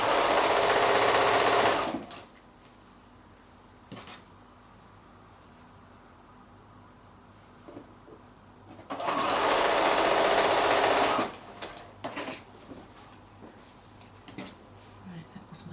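Sewing machine chain piecing quilt squares, two loud sustained runs of stitching about two seconds each, separated by quieter handling of fabric and small clicks nearby.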